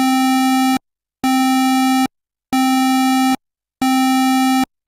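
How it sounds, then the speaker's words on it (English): Square-wave synth lead with eight voices, bright and buzzy but hollow, playing four identical sustained notes in an even on-off rhythm, loud and alone. "set it to square wave so it's fairly buzzy but hollower than the very rich"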